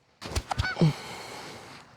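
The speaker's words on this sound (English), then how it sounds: "Oops, scared some geese." Geese on a disc golf course in Bostic, North Carolina give several loud, close honks in quick succession, fading into a quiet outdoor background.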